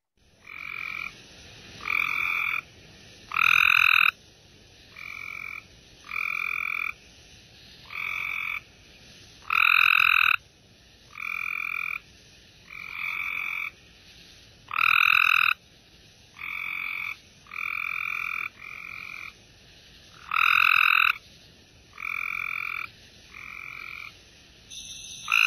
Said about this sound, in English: the Copes tree frog is going to be a little bit faster